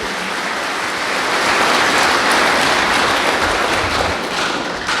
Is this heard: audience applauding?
yes